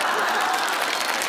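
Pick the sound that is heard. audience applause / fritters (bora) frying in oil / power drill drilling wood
audience applause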